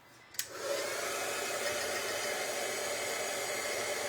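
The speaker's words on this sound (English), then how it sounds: "now I'm going to take my heat gun again" Heat gun starts with a click and then blows a steady, close whooshing hiss over mixed media craft work with glitter, continuing unbroken.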